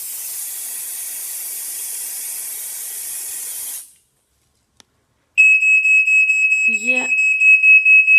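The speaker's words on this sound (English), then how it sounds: "The first smoke alarm is downstairs. I'm just going to test this to see if it works." After a long hiss and a brief silence, a downstairs smoke alarm being tested blares in sharp, loud pulsing beeps, with a short spoken word over it.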